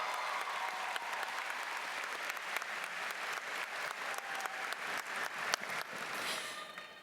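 A crowd at a high school graduation claps steadily in sustained applause, dense and even at first, then thinning slightly toward the end.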